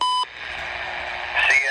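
A short electronic beep from a CN railway defect detector radio at Bala, followed by a steady tone and faint radio hiss, then a warbly burst as a transmission starts.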